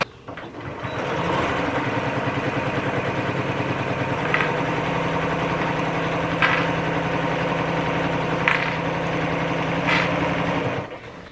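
A sewing machine runs steadily, stitching a wide seam along the top of the casing on a sports backpack. Its motor gives a continuous close, even whir with a fast stitching rhythm, with no talking over it.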